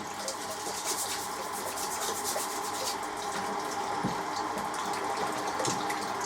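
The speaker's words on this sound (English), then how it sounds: "I'm going to wash this knife quickly" A knife being rinsed under a running kitchen tap: a steady hiss of flowing water with soft rubbing and scrubbing strokes and occasional light clinks, close and fairly quiet, with no talking.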